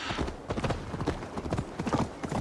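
Horse hooves clip-clop in a steady, fairly loud rhythm in Assassin's Creed Valhalla, a quick run of evenly spaced beats lasting a few seconds with no talk over it.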